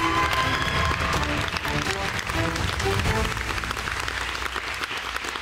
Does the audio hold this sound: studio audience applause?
yes